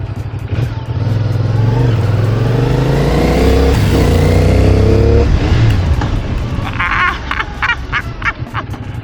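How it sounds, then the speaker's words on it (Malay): A CF Moto 450 motorcycle climbs a hill in second gear, its engine loud and close, revving up with a rising drone and then dropping to a lower, uneven throb as it eases off. "Second gear naik gunung tiada masalah bro."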